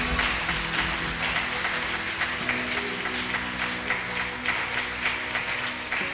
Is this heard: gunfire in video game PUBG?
no